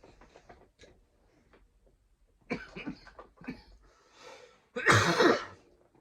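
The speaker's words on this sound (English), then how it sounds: "Cough so hard." Harsh, hard coughing fits close by, a few light throat-clearing sounds building to loud, rasping bursts, with heavy breathing between them.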